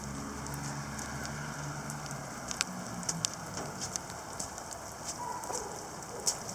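Heavy rainfall patters steadily on surfaces outdoors, a dense even hiss broken by scattered louder drips and taps, with no voices.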